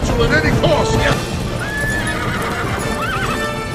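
A horse whinnies loudly with a rising, wavering call over steady clip-clopping hooves, with a second shorter neigh later, all beneath overlapping talk in an animated film scene.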